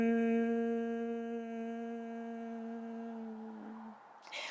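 A person practicing bumblebee breathing during a slow hatha yoga class hums a long, steady, buzzing exhale that imitates bees' wings, close and even, fading out near the end before a brief breath noise.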